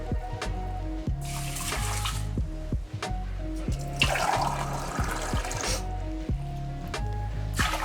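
Cold water runs from a kitchen tap to measure for basmati and brown rice, a steady close splashing stream broken by clinks and knocks of a pot or cup being handled.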